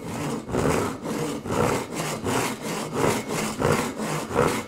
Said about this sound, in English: So I'll go ahead and get started on this cross cut.